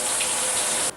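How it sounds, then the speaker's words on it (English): Shower water hisses in a loud, steady broadband stream at close range, then cuts off abruptly near the end, leaving a brief quieter tail. "It takes a girl to turn it off. You can't even turn the shower on."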